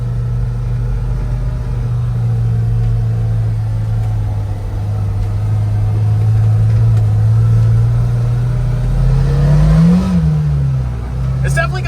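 A 2024 Kawasaki Ridge XR side-by-side drones steadily up close, then its engine revs and climbs in pitch near the end before settling back down.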